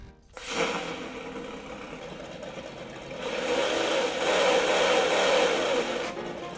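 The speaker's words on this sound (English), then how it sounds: "You have to wait for the sound a little bit after you start the car." A toy car's electronic engine sound starts abruptly and hums steadily, swelling slightly louder midway like a revving motor, with no talking.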